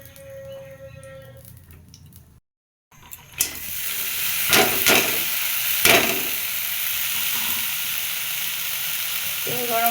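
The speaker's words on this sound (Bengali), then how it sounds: "তেল গরম হয়ে গেছে, এর ভিতরে এখন দিয়ে দিলাম আলু।" Potatoes go into hot oil for aloo bhaji. After a quiet start and a brief silence, a loud, steady, close sizzling hiss takes over, broken by a few sharp crackles.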